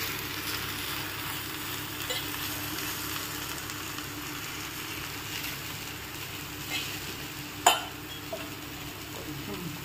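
Karam dosa batter being spread across a hot pan, Nellore style, gives a steady close sizzling hiss throughout, with a sharp clack near the end and a few small taps.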